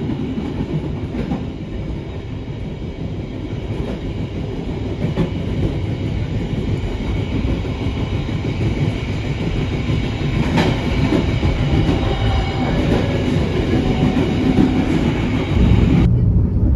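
A Kutojaya Selatan passenger train runs through Rancaikek station at reduced speed, its wheels clattering in a steady loud rumble with faint squeals heard from on board.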